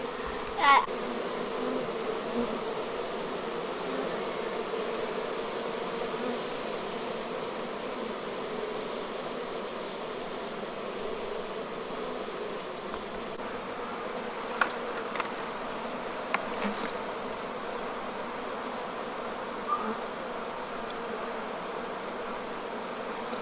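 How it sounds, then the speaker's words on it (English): A swarm of honey bees drones steadily near a hive, a continuous dense buzzing with occasional faint clicks and knocks throughout. "Once the bees start going in the landing board and through the entrance, we'll pull the screen cover off of these and they should go right in the hive too."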